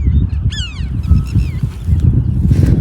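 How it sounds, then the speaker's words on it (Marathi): Birds call at Veer Dam at sunrise, with loud honking, goose-like cries and rising chirps repeating over a steady low outdoor rumble. "ऐका ना पक्ष्यांचा आवाज"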